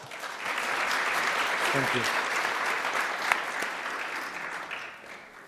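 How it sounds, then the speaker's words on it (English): A conference audience at a green growth event gives a steady round of applause for an arriving speaker, dense and sustained, with a brief spoken thanks over it. "Please welcome Mr. Burden with a big round of applause."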